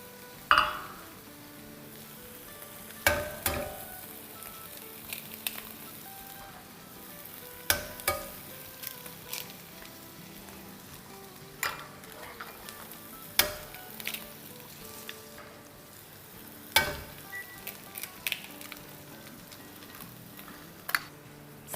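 Eggs and masala fry together in a single pot, a soft continuous sizzle broken by sharp metallic clinks and scrapes of a spoon stirring at irregular intervals, close and fairly quiet, with no talking.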